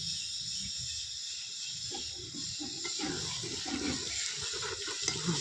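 Water poured into a pot of meat curry as it cooks, producing a steady, moderately loud rushing hiss that runs continuously without a break.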